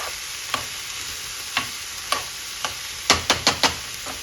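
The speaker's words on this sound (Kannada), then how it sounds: "ಇದು ಹಿಂಗೆ ಒಂದು 5 ನಿಮಿಷ ಫ್ರೈ ಆಗಲಿ" Mixed vegetables for rava momos fry in a pan, a soft steady sizzle punctuated by sharp scraping and tapping of a spatula against the pan, a quick cluster of strokes near the end.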